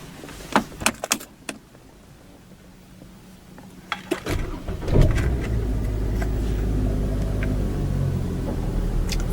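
A 2006 Saab 9-3 Vector 1.8t starts from its center-console ignition, with keys jingling first, then a starter crank that catches into a steady, close idle.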